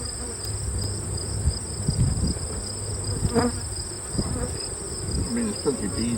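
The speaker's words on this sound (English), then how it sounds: "I mean, there's plenty of bees in it." Honey bees buzz steadily inside a beehive with little or no honey, a dense continuous drone with a few louder passes near the microphone.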